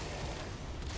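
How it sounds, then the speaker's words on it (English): Dense, continuous barrage of layered explosions from molecular prime detonations in a Warframe-style shooter, as grouped enemies blow up in rapid overlapping bursts, loud and sustained with no pauses. "with Nautilus just grouping them up for molecular prime explosions"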